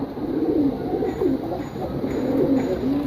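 A male pigeon coos close by in a steady run of throaty, rolling calls, loud and continuous over a faint background hum.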